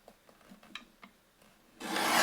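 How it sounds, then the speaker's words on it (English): A small paper trimmer slides across paper in several light, rhythmic rasping strokes, ending in a louder, sustained hiss of cutting. "I'll get the little trimmer, but I'm going to trim the inside here."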